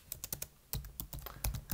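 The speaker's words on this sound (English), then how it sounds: "I've written my sentence, typed it on the keys myself." Quick, close clicks of fingers typing a sentence on a computer keyboard come in uneven bursts, with brief pauses between the keystrokes and no voice.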